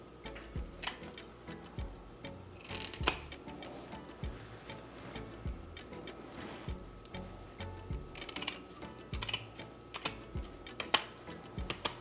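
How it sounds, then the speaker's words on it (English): Kitchen shears snip the fins off a raw fish in a steady run of quick, close clicks and cuts, soft and ticking, with no talking over it. "First, I remove the fins with the kitchen shears, which always does the job"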